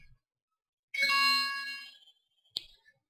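A phone's notification ding, one short bright tone, sounds near and alone in a quiet blacksmith's workshop, coming just after a longer harmonic ringing tone.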